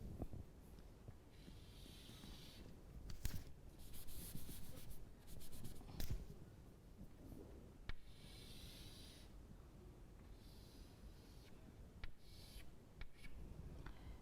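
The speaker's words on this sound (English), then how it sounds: "Let me try to draw it" A marker scratches across a board as a supply-and-demand line is drawn during an economics lesson on taxes, with faint, intermittent strokes and light squeaks in a quiet room.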